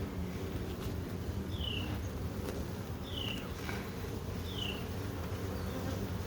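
Steady low buzzing of many honeybees at an open hive fills the clip, a dense continuous drone close by, with a few faint higher chirps drifting over it.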